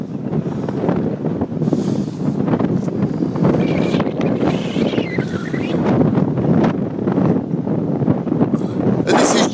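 Strong wind buffets the microphone on an English summer beach near Martello Towers, roaring steadily in low gusts, with a voice speaking beneath it.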